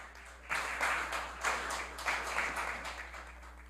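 Applause in a municipal council plenary session in Petrópolis: a modest group claps in a broad, even patter that starts abruptly and swells in soft waves, heard at moderate distance in a quiet chamber.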